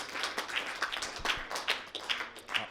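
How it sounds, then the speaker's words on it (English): Applause for both players after the final of a black ball pool championship, a moderate patter of hands clapping from a small audience, steady and continuous with no talking. "a round of applause for both players"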